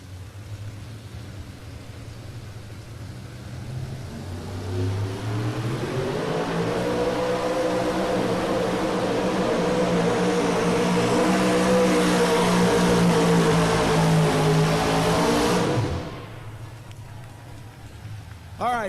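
The Valvoline Bandit, a Chevrolet pulling truck at a 1997 farm machinery show, roars up to a loud sustained rev that holds for several seconds and then cuts off abruptly, with crowd noise and an announcer's voice underneath.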